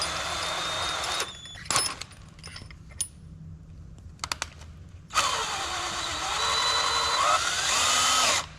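A power drill whirs in two long bursts, first briefly and then for several seconds, with clicks and handling noises in between, close by.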